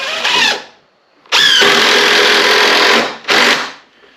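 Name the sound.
power drill driving screws into woodshed frame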